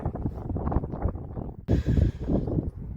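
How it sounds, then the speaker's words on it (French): Gusty wind buffets an outdoor microphone, rumbling loud and uneven with a sharp burst of blustery noise partway through, no talking heard. "Le vent se lève, je sais pas si vous allez m'entendre."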